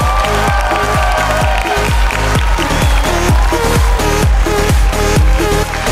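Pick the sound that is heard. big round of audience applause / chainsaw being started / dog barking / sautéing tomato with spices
big round of audience applause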